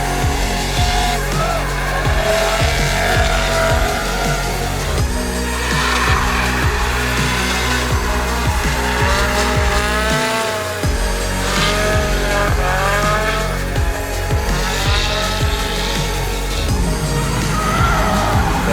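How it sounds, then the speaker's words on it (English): Cars drifting at a GRIDLIFE motorsport event, with continuous loud roaring engines, wailing revs and long screeching tire squeal throughout, dense and close. "I'm gonna relax and watch some drifting."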